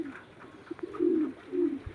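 Pigeons kept by a fancier coo close by in a few soft, throaty bursts, low and rounded, with quiet background noise between calls.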